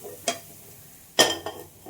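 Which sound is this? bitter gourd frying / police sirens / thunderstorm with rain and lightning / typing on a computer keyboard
bitter gourd frying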